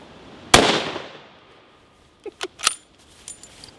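A single loud gunshot from a .300 Win Mag rifle cracks out sharply and decays, followed a second or more later by a few fainter clinks and small knocks nearby.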